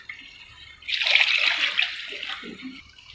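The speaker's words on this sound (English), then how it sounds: "Now we add the water." Water is poured into a cooking pot for rice seasoned with thyme, a steady splashing rush that swells and then tapers off, close by with no talking.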